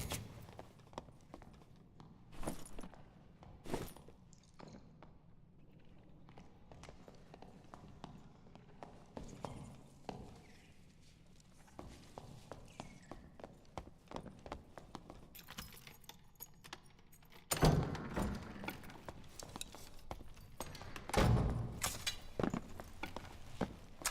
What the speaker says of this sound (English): I'm always hesitant when I hear footsteps because it might be a rogue